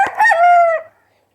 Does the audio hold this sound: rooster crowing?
yes